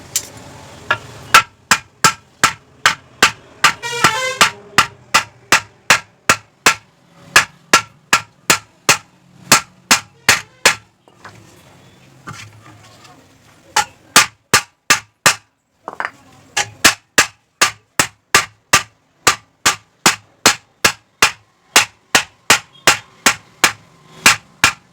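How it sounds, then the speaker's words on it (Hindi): A hammer beating a metal pressure cooker body on the ground to reshape it, a steady run of loud, sharp, ringing metallic strikes with brief pauses between bursts, close up and with no talking. "तो दोस्तों चारों तरफ इसको इस हथौड़ी की मदद से पीटेंगे।"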